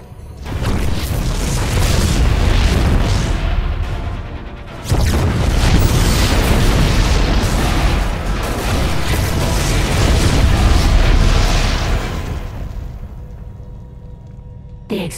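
Heavy rolling explosions from StarCraft II: Heart of the Swarm boom continuously, loud and close, with a brief break before more blasts rumble on and fade to quiet.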